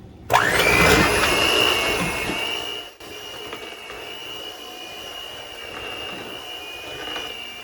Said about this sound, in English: you can let the blender do most of the work